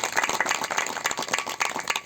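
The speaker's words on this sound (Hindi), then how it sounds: "ताली बजाकर धन्यवाद दीजिए परमेश्वर को।" A church congregation claps in quick, uneven rhythm, a dense patter of many hands that carries on without a break for a couple of seconds.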